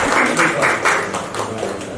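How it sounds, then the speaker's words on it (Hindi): A crowd at a film poster launch event claps in quick, rhythmic applause, nearby and fairly loud, with the claps thinning slightly toward the end. "जोरदार तालियां के लिए"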